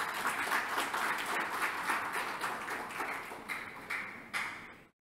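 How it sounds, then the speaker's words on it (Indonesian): Audience applause at a book launch event, dense clapping that thins toward the end into a few scattered claps before stopping abruptly. "Ya, tepuk tangan untuk Anda"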